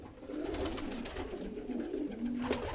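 Racing pigeons in a pigeon loft coo softly and continuously, several birds overlapping in low, throaty calls at a moderate distance.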